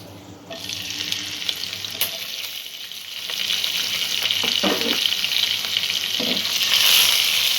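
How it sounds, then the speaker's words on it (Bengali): Thinly sliced onions frying in a pan give a strong, continuous sizzle that builds gradually, with a few soft scraping stirs along the way and no voices. "পেঁয়াজটা একটু ভাজা করে নেব।"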